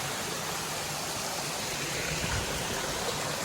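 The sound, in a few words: Mae Ramoeng waterfall, flowing water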